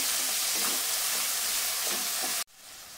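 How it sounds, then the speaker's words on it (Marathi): Finely chopped onions frying in a pan for mutton kheema biryani, giving a steady close sizzle and hiss with faint stirring scrapes, before the sound drops abruptly near the end. "आता आपण याच्यामध्ये 2 छोट्या आकाराचे कांदे बारीक चिरून घेतले ते टाकून घ्यायचे। कांदा थोडासा सॉफ्ट झाला पाहिजे।"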